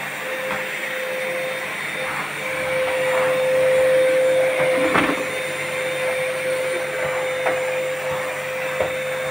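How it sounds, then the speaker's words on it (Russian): A vacuum cleaner drones steadily and loudly throughout, with a constant motor whine and occasional bumps and rattles, and no voices. "Тут уже все пропылесошено."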